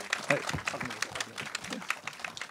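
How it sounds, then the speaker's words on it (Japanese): Light, fairly quiet applause from a talk-show audience welcoming a Toei Animation producer, scattered claps running under someone speaking. "拍手でお迎えください。"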